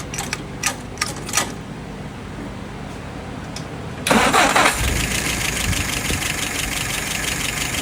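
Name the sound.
engine being fired up after warming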